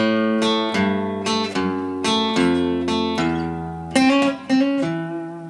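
Blues electric guitar chords ring out one after another, strummed and sustained in a relaxed rhythm, with a few sharper attacks near the end.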